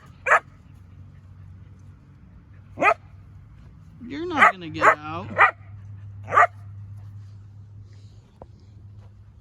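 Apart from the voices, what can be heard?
neighbor's dog barking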